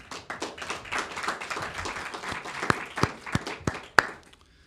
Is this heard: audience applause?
yes